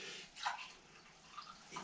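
Wine poured into glasses, faint close trickling splashes in a few short bursts against a quiet room.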